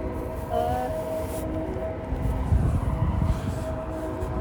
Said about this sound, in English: You heard a train again.